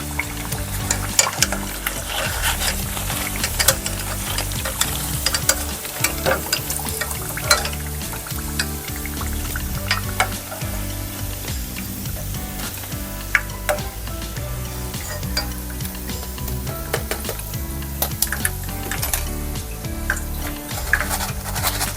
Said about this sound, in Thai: เราจะทอดมันฝรั่งสองครั้งนะคะ